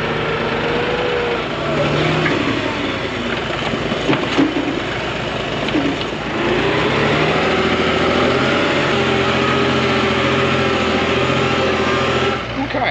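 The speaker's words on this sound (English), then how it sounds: "So I'm gonna let it warm up for a little bit." An older excavator's diesel engine idles steadily while warming up, a continuous close rumble with slight changes in pitch and a few clanks, running under occasional talk.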